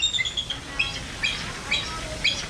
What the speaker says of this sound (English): Now you know what eagle sounds like